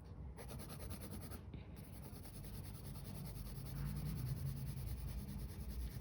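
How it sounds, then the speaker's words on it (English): An HB pencil shades on paper in soft, steady scratchy strokes, faint and close, with no voices. "I'm only using an HB pencil here"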